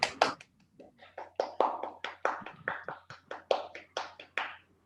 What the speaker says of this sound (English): So let us give ourselves a big round of applause.